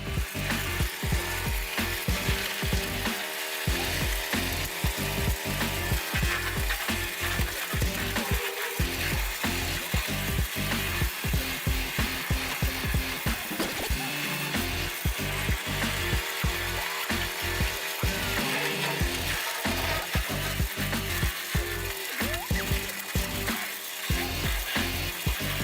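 Wood chipper machine pulling in and chopping up a tree, a steady loud mechanical roar with continuous rapid crunching and grinding throughout.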